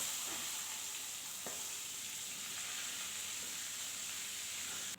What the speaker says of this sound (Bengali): মাথাটাকে খুব উল্টে পাল্টে ভালো করে ভাজা করে নেব